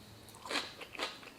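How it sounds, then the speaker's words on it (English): Crisp bites into crunchy cucumber kimchi, two sharp close crunches about half a second apart over quiet room tone, with no talk. "Let's try a cucumber kimchi."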